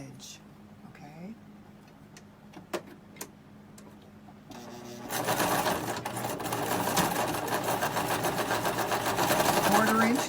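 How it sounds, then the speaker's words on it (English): A sewing machine stitches along the long edge of a reversible tote bag with interfacing. It opens with quiet handling and a person speaking, then a steady, rapid mechanical whir runs from midway to the end. "we are going to sew along the long edge"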